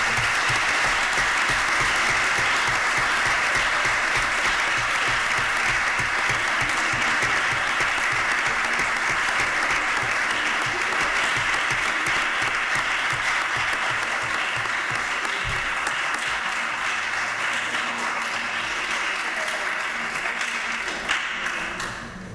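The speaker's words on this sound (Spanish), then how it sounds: "me gustaría pedir un aplauso de reconocimiento" Sustained applause from an audience at a formal recognition event, dense clapping that stays loud and steady throughout before tapering slightly at the end.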